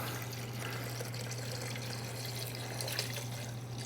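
A whole bottle of batched tequila old fashioned is poured out in a steady, continuous liquid stream, close and unbroken, with a low constant hum underneath and no talking.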